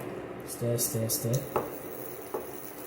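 Egg stew with herb spice stirred in a pot, a soft sizzle with a spoon scraping and a couple of light clinks against the pot, close and quiet, with a voice speaking briefly over it.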